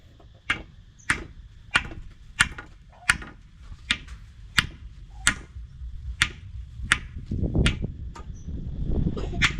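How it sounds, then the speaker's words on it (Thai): Nails are driven into wood with a hammer while a kitchen house is being built: about fifteen sharp, evenly spaced strikes ring out nearby, with growing background rumble toward the end. "ตอกตะปูลงก่อน"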